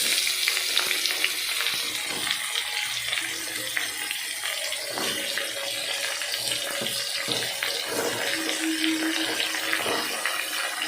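Ridge gourd pieces drop into a pan of frying potatoes, setting off a steady, close sizzle with scraping and stirring clatter running throughout, no talk.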